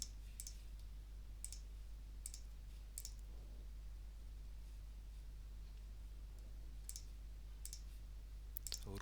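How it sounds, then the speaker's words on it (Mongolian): Mouse buttons clicked in spreadsheet software, sharp close clicks in small clusters: a few near the start and several more toward the end, over a low steady hum with no talking. "Үргэлжлүүлэх товчийг дараад хадгалах товчийг дарснаар амжилттай мэдээ нийлүүлэгдлээ."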